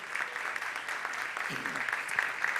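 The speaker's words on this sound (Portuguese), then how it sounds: "Você pode aplaudir ao Senhor?" A church congregation at an evening celebration service applauds in a sustained, moderately distant patter, with a brief voice rising faintly underneath partway through.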